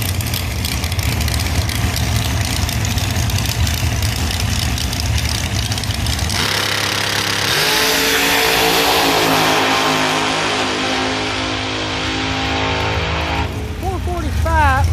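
Drag-racing door cars at Beech Bend Raceway roar loudly down the strip, with a heavy engine rumble that swells into a high, rising howl about halfway through, under steady crowd noise and voices.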